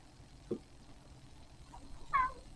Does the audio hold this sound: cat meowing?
yes